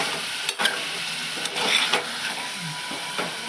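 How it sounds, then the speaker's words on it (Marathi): Drumstick pods roast in a hot pan with a steady close sizzle, punctuated by scraping stirs and brief spatula knocks. "आता असं भाजत असतानाच त्याच्यामध्ये शेवग्याची शेंग टाकूया"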